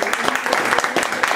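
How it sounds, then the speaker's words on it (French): Short burst of applause from a small crowd at a comedic French stage show, the claps dense and close with some talk mixed in. "Applaudissements pour Nicolas."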